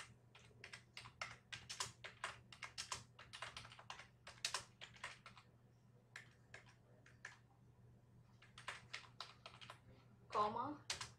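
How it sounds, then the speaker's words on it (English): Keystrokes on a computer keyboard tap out in quick irregular bursts for several seconds, with a steady low hum underneath and a brief pause before a final cluster of clicks. "I'll just type it."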